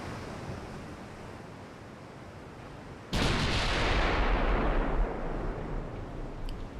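A 14-inch battleship gun fires in Ultimate Admiral Dreadnoughts, a sudden heavy boom that bursts out of a steady ocean-like rumble and then rolls on as a long, roaring wash fading only slowly.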